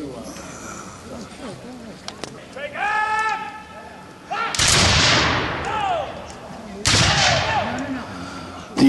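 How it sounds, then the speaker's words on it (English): Musket volley fire at a Napoleonic living history reenactment at Nassau County Museum of Art: two loud, sharp massed volleys cracking out with echoing tails, following crowd chatter and voices in the open air. "volley fire, as you can see, was the standard Napoleonic tactic of the time"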